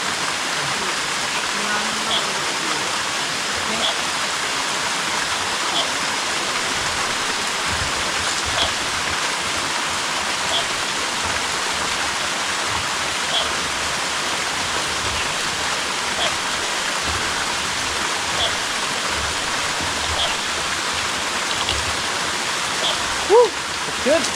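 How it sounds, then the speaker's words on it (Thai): A steep waterfall pours down a cliff beside a forest camp, producing a steady, loud broadband rush of falling water that fills the whole scene without pause. "โอ้บรรยากาศสวยมากนะ น้ำตกไหลชันเลย"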